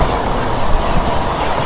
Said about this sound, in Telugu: ఇక్కడ చూసుకుంటే మనకు వచ్చేసి తిరుపతి డబుల్ డెక్కర్ ట్రైన్ అయితే వెళ్తుంది.